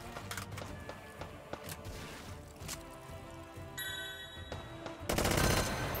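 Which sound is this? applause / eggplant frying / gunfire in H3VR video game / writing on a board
gunfire in H3VR video game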